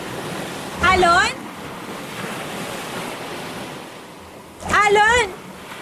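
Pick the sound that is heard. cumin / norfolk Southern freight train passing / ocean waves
ocean waves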